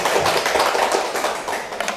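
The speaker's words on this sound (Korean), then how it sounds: "박수 한번 쳐주시고" An audience claps together at the start of a lecture for a practice exam in Korean real estate agent licensing civil law, a dense, steady patter of many hands sustained for about two seconds with no talking.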